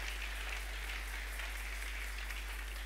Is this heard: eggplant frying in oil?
no